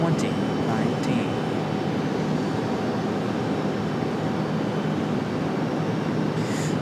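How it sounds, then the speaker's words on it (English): A seven-year-old Endeavor CRJ regional jet departs at Raleigh-Durham airport with a steady, broad engine roar. The roar holds at constant loudness throughout, with a faint tone running beneath it. "That departure of that CRJ off to DCA."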